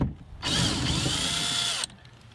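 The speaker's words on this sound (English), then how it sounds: "we're going to remove this 10mm nut" A tool spins a 10mm nut off a BMW F30 door bracket in one steady whirring run of about a second and a half, close and fairly loud.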